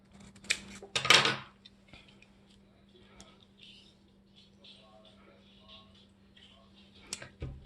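Scissors snip paper shapes for a collagraph print, a couple of brief crisp cuts near the start, followed by quiet tapping and rustling as pieces are handled.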